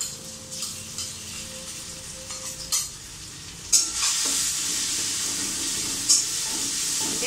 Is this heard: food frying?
yes